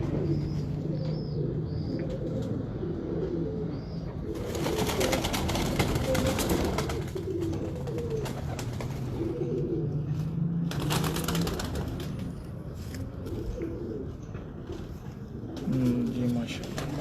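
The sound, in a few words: female pigeon cooing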